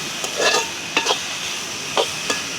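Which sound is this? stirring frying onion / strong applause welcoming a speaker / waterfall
stirring frying onion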